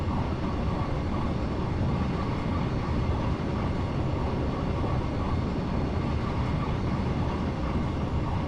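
Steady, loud rumble of a passenger train accelerating on the Portsmouth to Waterloo line, heard from inside the driver's cab, with even engine and rail noise running unbroken throughout.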